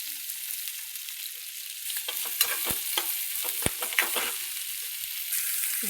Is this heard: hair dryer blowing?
no